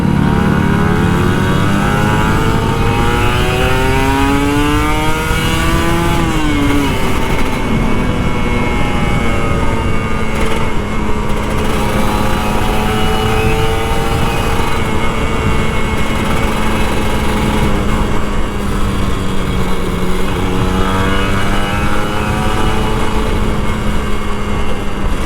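A Kawasaki Ninja RR 150 two-stroke motorcycle revs repeatedly while riding through Jakarta at night, its buzzing engine note rising and falling in steady throttle blips, loud and close throughout with constant wind noise.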